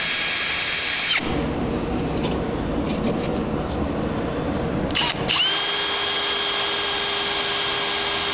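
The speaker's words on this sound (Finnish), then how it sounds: "Mä pyörit pora väärään suuntaan." A power drill on a BMW S36 engine job whines steadily, bites in with a loud grinding roar for several seconds, then drops back to a high motor whine.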